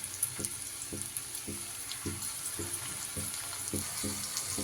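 Thick jaggery parathas fry in a pan over low heat, a soft steady sizzle with a faint regular thumping underneath, unbroken and moderately close.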